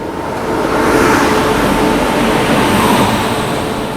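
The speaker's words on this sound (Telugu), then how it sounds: "ట్రైన్ వచ్చేసి Charan express, Coimbatore MGR Chennai central Charan express" Cheran Express rolling into Chennai Central, a loud, steady rumble of wheels and carriages that swells and holds close by for several seconds, with no voices over it.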